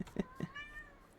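A pet cat meows close to the microphone in two or three short calls, followed by a thinner, fading mew over quiet room tone.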